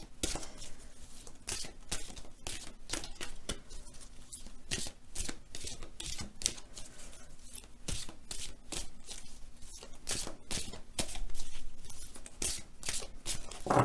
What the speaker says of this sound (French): nous allons tirer une carte de la féminité sacrée